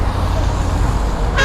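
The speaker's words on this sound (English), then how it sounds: "We still have cars passing and blasting their horns" Cars passing at the Lekki tollgate memorial gathering, a loud, steady roadway roar close by, with a horn blast at the very end.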